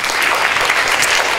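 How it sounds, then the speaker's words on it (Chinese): A lecture audience applauds for Huang Yingru, a dense, loud, steady burst of many hands clapping together, close and sustained without talk. "那我们现场先给黄颖如掌声"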